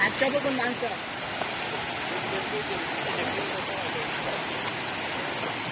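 Savatkada waterfall near Rajapur in the Konkan gives a continuous broad rushing roar of falling water, steady and even, with a short voice at the start.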